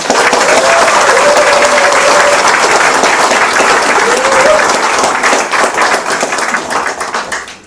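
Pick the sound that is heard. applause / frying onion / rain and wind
applause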